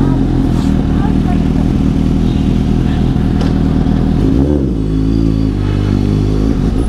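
Suzuki GSX 750 motorcycle riding along, its engine droning steadily and loudly throughout, with a brief gear-change dip around the middle.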